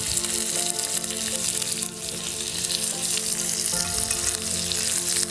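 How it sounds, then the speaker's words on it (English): Salmon frying in a pan with butter, dill, parsley and tarragon while being basted, giving a loud, continuous close sizzle with bubbling and occasional stirring clinks, no talking. "We're going to add some butter and some herbs, and we're going to baste and finish the cooking from top down."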